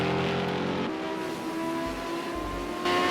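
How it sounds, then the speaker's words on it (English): A Datsun Group A race car in the Project Cars 2 racing game at Fuji roars at steady high revs, its engine note dipping briefly mid-pass before rising again, loud and continuous without talk. "Listen to the glorious sound of that Datsun."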